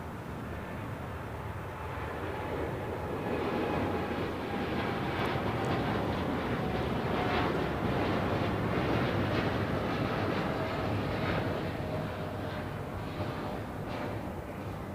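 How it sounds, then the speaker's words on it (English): American Airlines Boeing 787-8 Dreamliner rolling down runway 25 right at LAX on takeoff for Tokyo Haneda, a building jet roar that swells to a steady peak midway and eases slightly, with faint tonal whine. "This is American Airlines Flight 27 taking off to Tokyo Haneda on a 787-8 Dreamliner."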